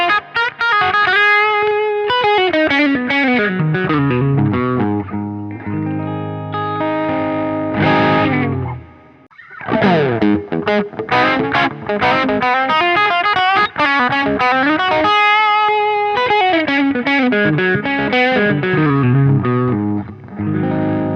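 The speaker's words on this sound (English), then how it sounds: "I'm going to play both of these guitars and you're not going to see which one I'm playing" An electric guitar, either a Donner or a Gibson ES-335, played through heavy distortion and chorus effects. Loud sustained chords and riffs run for about 21 seconds with one short pause midway and no talk.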